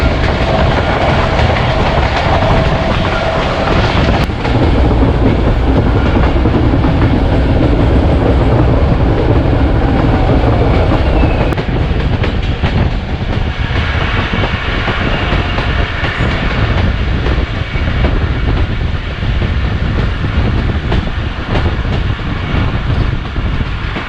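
The Thall Express passenger train runs loud and close on its rails, with a continuous roar and a rhythmic clickety-clack of wheels over joints that holds steady throughout.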